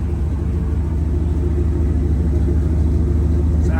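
A 1994 Ford F53 Holiday Rambler motorhome with a new, fairly small muffler idles with a steady, deep exhaust rumble, close and continuous with no talk over it.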